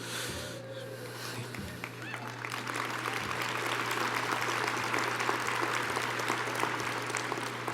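An audience at an alumni awards event breaks into applause, the clapping swelling after a couple of seconds into a dense, sustained roar from a large crowd indoors.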